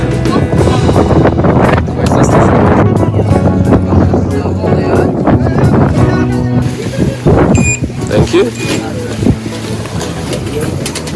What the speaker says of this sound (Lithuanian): Žiauriai didelis vėjas yra, bet nieko, išgyvensim.